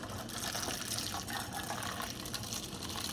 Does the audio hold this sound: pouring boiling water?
yes